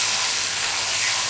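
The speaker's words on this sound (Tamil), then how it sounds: "கிளறி விட்டுப்போம், இந்த பூண்டு வந்து நல்லா கொஞ்சம் செவக்கட்டும்" Loud, steady hiss of garlic sizzling in hot oil for a tempering while paruppu kuzhambu, a lentil curry, is cooked. The frying noise is continuous and close, with no voices over it.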